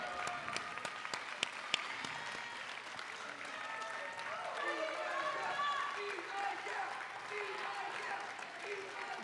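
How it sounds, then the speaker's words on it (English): An audience at a school board meeting's candidate forum stands and applauds, a steady wash of clapping at moderate distance that continues throughout, with faint voices and scattered cheers mixed in. "you can stand and give them a cheer"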